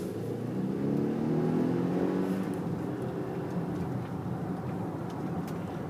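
A 2018 Volvo XC60 T8 Hybrid AWD R-Design accelerates along a curvy road, heard from inside the cabin as a steady engine and road hum with a rising note that climbs and then levels off, with no talking.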